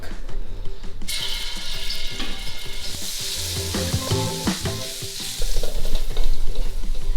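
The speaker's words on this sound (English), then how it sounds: "Let our oil heat up, and then we're gonna add minced garlic." Minced garlic sizzles steadily in hot oil in a wok while a utensil stirs and scrapes, the frying hiss loud and close with repeated clanks, surging stronger near the end.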